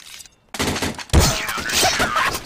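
Gunfire in the shooter game CS:GO sounds after a short quiet: a sharp burst of shots, then a heavier blast and a rattling tail of impacts, loud and close.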